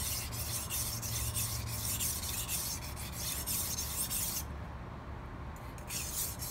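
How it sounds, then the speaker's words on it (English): A knife blade scraped back and forth across a 1000 grit sharpening whetstone gives a steady, close rasping rub that runs continuously with no talking. "Now we've moved on to a 1000 grit stone, and you're going to hear a definite difference in the abrasive."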